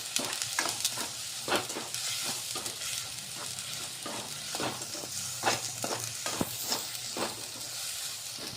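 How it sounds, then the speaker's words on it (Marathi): Chili powder, salt and mixed spices fry in a hot pan for a Marathi peanut and fenugreek-leaf dish, giving a steady sizzle broken by frequent scraping stir strokes from a spoon. "हे सगळे जिन्नस असे मिळवून घ्यायचं। याला 1 मिनिट शिजून घ्यायचं आपल्याला।"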